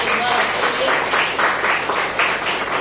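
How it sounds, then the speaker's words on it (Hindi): Audience at an indoor workshop clapping steadily in a continuous, moderately loud wash of applause. "एक बार जोरदार तालियां फिर बार"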